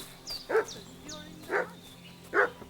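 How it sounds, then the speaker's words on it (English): A dog in the video game Kingdom Come: Deliverance 2 gives three sharp, well-spaced barks at moderate distance, set against a quiet ambient backdrop with faint birdsong. "What's that dog making such a fuss about?"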